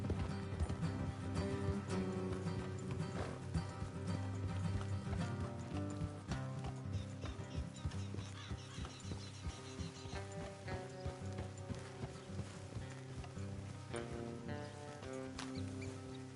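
Steady clip-clop of horse hooves trotting along in Red Dead Redemption 2, under a dense layer of background music, continuous and fairly even throughout.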